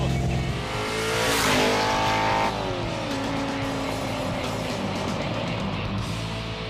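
A hot rod with an overheating engine runs hard on the Roadkill Garage set, a loud sustained engine roar that climbs in pitch and then drops as it revs down, near and continuous throughout.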